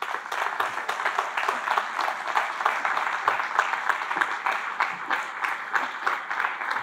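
An audience applauds an author at a literary talk, dense sustained clapping with sharp individual claps standing out, loud and even throughout with no voices over it.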